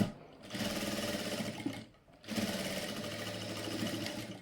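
A sewing machine runs close by, stitching the front part of a blouse, in two steady runs of rapid mechanical whirring split by a brief pause, with no talk over it.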